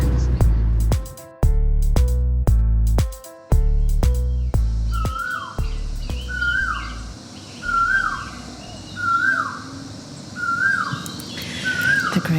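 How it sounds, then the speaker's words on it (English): Birds calling in Ao Nang, Thailand: a repeated rising whistled call sounds at regular intervals, each call brief and clear, after a stretch of loud musical tones at the start. "the different sounds that you hear and the different birds"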